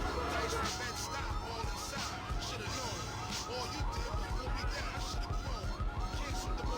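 A truck alarm siren in Grand Theft Auto III wails, cycling up and down repeatedly and steadily for the whole stretch, over a dense background of engine rumble and ambient noise.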